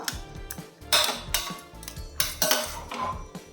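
Cooked pumpkin pieces are mashed with a metal spoon in a pot, giving repeated close scraping and clinking taps in an irregular rhythm, fairly loud with no talk.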